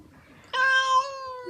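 Pregnant barn cat giving a single clear, drawn-out meow close by, after a moment of quiet.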